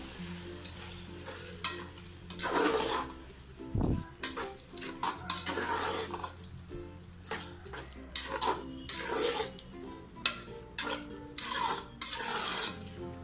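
A spoon scrapes and stirs coriander powder into a sizzling pot of mutton biryani in repeated bursts, with a soft clunk partway through.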